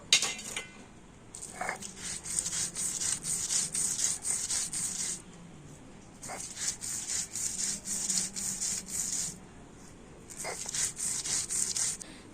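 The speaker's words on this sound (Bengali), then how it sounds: "এই মশলাগুলো তো আমি শিলনোড়াতে বেটে নিচ্ছি" Spices and old coconut are ground on a stone slab with a grinding stone, giving three stretches of close, rhythmic gritty scraping broken by brief pauses, with no talk.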